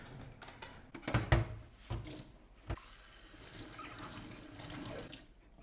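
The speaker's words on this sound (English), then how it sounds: "Now the second step is to wash the cup." A tea cup being washed under a running kitchen tap, with water splashing and a few sharp knocks of the cup against the sink, then a softer steady trickle.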